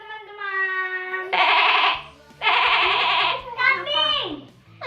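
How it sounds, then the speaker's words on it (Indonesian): Goat bleating in a children's Sunday school service, several loud, wavering bleats close by, alternating with a child and an adult speaking. "Kambing"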